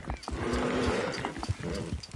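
A horse galloping in the Red Dead Redemption video game, rapid rhythmic hoofbeats and whinnying under loud, busy game noise, with a voice shouting at times.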